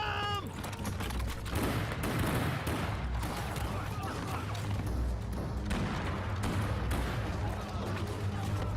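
Gunfire in an action movie scene: repeated sharp bursts and thuds spread across the scene over a dense, loud background, with voices mixed in.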